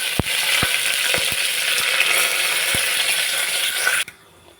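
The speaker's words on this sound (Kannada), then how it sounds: "ಸ್ವಲ್ಪ ಚಿಟಪಟ ಅಂತಿದ್ದಾವೆ ನೋಡಿ ಸಾಸಿವೆ ಜೀರಿಗೆ" Mustard seeds, cumin, garlic and curry leaves sizzle and crackle in hot oil, a dense continuous fry with a few sharp pops, then the sizzle stops abruptly near the end.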